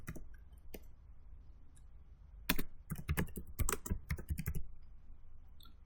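Typing on a computer keyboard, sparse clicks at first, then quick irregular bursts of keystrokes in the second half. Close but fairly quiet, with no voices.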